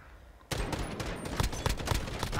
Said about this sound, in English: Shooting at a dead body.